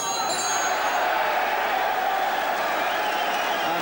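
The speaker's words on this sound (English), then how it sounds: "the crowd absolutely love this" Boxing crowd applauding and murmuring in an arena, a steady dense wash of clapping and cheering throughout with no break.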